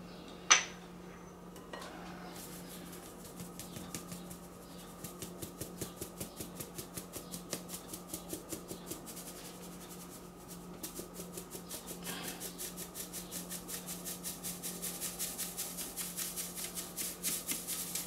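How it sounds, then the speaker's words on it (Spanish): Dry cake ingredients, granulated sugar among them, tipped into a bowl and sifted for a rustic apple pie, heard as a steady run of fine metallic rasping taps against the bowl, close and moderately loud, with no talking. "vamos a echar acá también los ingredientes secos"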